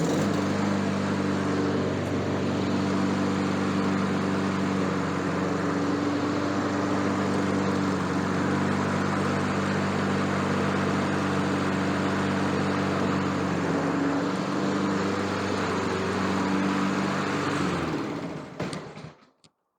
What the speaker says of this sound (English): that may be the best running lawnmower I've seen in a long time